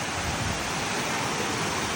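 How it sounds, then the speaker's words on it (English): Small waterfalls spill into a little pool in Eaton Canyon, producing a loud, continuous broadband rush of falling water with no other sounds. "These are the first little waterfalls with a cool little pool."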